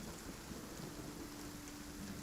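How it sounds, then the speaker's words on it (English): Heavy rain pours steadily with thunder rumbling low underneath, a dense, even wash of downpour and distant rolling thunder with no voices. "It's kind of pretty heavy rain now and muddy and not very comfortable."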